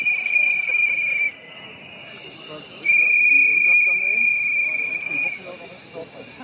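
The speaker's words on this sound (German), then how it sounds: "dort hinten ein gellendes Pfeifkonzert" A protest crowd at a rally against Angela Merkel lets out a shrill, sustained whistling chorus in two long loud bursts, with a murmur of voices underneath.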